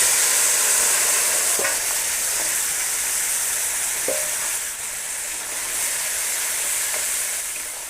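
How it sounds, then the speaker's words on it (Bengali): Sundarbans crabs fry in a pan over a wood fire with dried chillies and cumin, a loud, steady sizzle with faint stirring scrapes and clinks, no voices. "সব করে আমি ভেজে নেব এবার কাঁকড়াটাকে"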